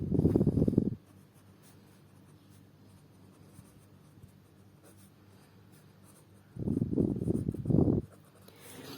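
Pen or pencil writing out a Class 10 quadratic equation solution by cross multiplication, a scratchy stroke burst at the start and another near the end, with quieter room hum between and no talk.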